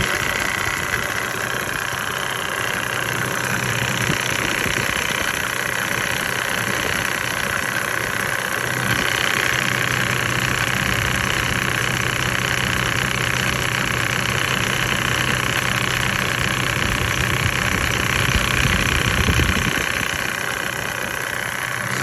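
A diesel engine runs as is before any fuel-system cleaning treatment, holding a steady, continuous idle close by for the whole stretch with a constant rumble and rattle and no talking.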